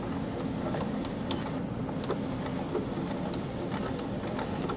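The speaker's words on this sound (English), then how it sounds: "so I'm back stitching" Domestic sewing machine back stitching at the start of a dart in fabric, a steady continuous mechanical whirr of needle and motor running close by without a break, with no talking.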